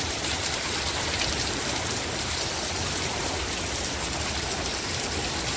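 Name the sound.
heavy rain falling in Saudi Arabia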